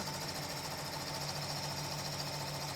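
An embroidery machine stitches a design onto a bath towel at a fast rate, giving a steady, continuous mechanical whir with a rapid repetitive needle rhythm throughout, close and alone with no talk.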